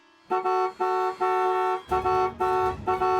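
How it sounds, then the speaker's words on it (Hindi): A car horn honks repeatedly in long and short blasts, loud and close, with brief gaps between them. "हॉर्न बजाना"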